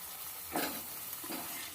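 Ginger paste hits a pan of cumin, chili and tomato for a potato dish, giving a steady soft sizzle with two brief stirring swells.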